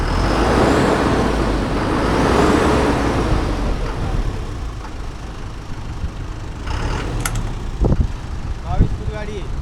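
A second-hand 22-foot truck's engine revs up in a loud rumbling surge, then settles to a lower idle while a few brief clanks and hisses sound nearby and someone talks over it.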